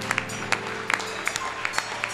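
A church congregation gives scattered, faint applause, individual claps popping out irregularly over a steady low hum of the hall, with no talking in between.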